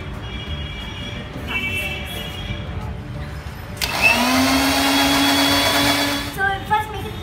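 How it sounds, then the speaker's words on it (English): A kitchen blender purees soybeans with water for soy milk, roaring in loudly partway through as a steady high whir, then cutting off, with quieter kitchen clatter before and after. "So you put it in a blender and then you blend."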